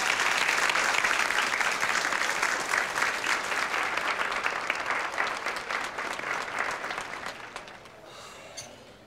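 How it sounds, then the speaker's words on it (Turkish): A warm round of applause for Leyla rises from a concert audience, many hands clapping densely and evenly, then gradually fading away toward the end. "Lütfen Leyla'ya kocaman bir alkış"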